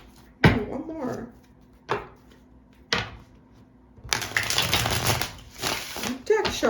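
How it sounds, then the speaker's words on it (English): A deck of playing cards is shuffled in several quick riffling bursts, with brief pauses between short snaps and a longer, denser ruffle near the end, close and fairly loud. "Deck shuffled nicely."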